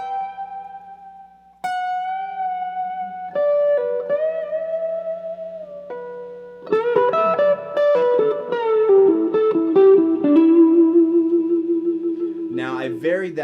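Clean electric guitar plays sustained melodic notes and short licks, each note trailing echoing repeats from a delay effect, moderately loud.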